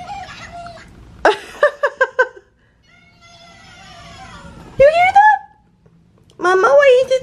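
A cheap Angry Birds plastic toy bird gives out a few short squawking, chirping cries in separate bursts, loud and close, with a gap of quiet between them.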